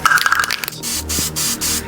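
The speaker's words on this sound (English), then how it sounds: "Let's shake our Duplicolor, give it a test spray" Duplicolor aerosol spray paint can given a short test spray: a rattling shake of the can first, then several steady hissing bursts in quick succession, close and fairly loud.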